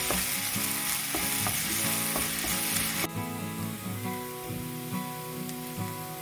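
Onion tipped into hot oil with mustard seeds in a kadai for restaurant-style chilli chicken crackles and sizzles loudly, a sharp burst easing into steady frying with scattered pops throughout.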